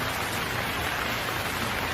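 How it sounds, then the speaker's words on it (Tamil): Rain pours down in a cartoon forest story as the wind picks up, a steady, dense hiss of falling drops with no break, fairly loud and close. "மழையோட வேகமாக காற்றும் வீச தொடங்குச்சு."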